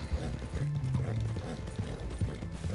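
Horse hooves clip-clop steadily in Red Dead Online as a mount arrives across dusty desert ground, a continuous rhythmic trotting with occasional snorts, fairly close.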